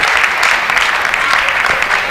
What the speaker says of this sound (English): Give that one a clap